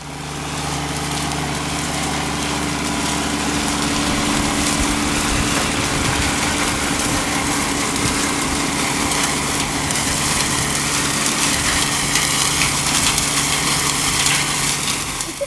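A cotton stalk shredding machine with swallow-type blades and a Nissan gearbox runs steadily and loudly throughout, its engine drone and whirring cutter noise continuous and close with no pauses.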